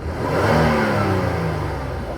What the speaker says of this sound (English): I noticed the car's running right now